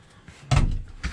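A single solid thump sounds from a drawer or cabinet being shut inside a 2019 Winnebago Minnie Plus bunkhouse travel trailer, followed by a lighter knock, close and brief.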